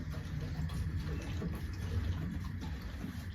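Petrol gushing from a leaky hose into a moped's fuel tank, splashing everywhere: a steady, close, fairly quiet pour and trickle of liquid running unbroken throughout, with no talking.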